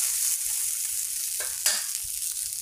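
Fried fish pieces going into a curry in a hot pan, giving a loud bright sizzle with a couple of sharp hissing swells and light stirring scrapes near the middle, no voices.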